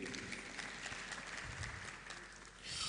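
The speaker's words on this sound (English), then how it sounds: "So please, a round of applause for them again." Quiet, distant applause from an audience at a digital economy summit in Ogbomoso, a soft steady patter of many hands that dips briefly near the end before swelling again.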